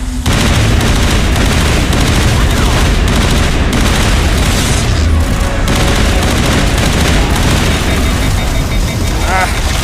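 Sustained rapid gunfire from a Mass Effect firefight, loud and continuous with dense bursts and booms layered throughout, close and unrelenting for the whole stretch.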